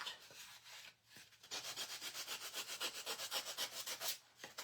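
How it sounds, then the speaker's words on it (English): Wood edges rubbed with 80 grit sandpaper, a quick series of rhythmic scratchy back-and-forth strokes, close and clear with no talking. "And this is 80 grit sandpaper on my gator."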